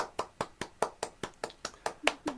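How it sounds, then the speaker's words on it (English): Hands clapping at a steady, fairly quick pace in a brief burst of applause for a young storyteller, the claps sharp and distinct rather than a dense crowd roar, with no talking over them. "Big round of applause for Besan."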